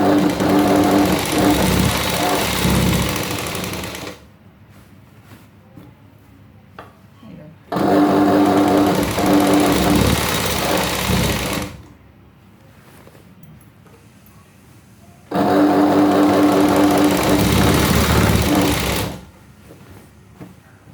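A sewing machine stitches a sari petticoat in three loud, steady bursts of several seconds each, separated by quieter pauses with faint background sound.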